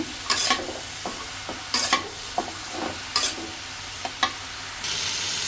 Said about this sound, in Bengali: লতিগুলো ভাব দিয়ে নিয়েছিলাম ভাব নামিয়ে নিছি আবার ভেজে নেব